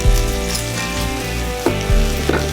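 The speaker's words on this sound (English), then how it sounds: "உங்களுக்கு தெரியுதா அதோட ஓன் ஃபேட்ல அது குக் ஆகுது பாருங்க." Chicken sizzles in its own fat on an outdoor barbecue, a close, loud crackling hiss with popping spatters and a few sharper bursts, no talking.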